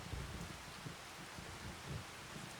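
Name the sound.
rain falling outside the truck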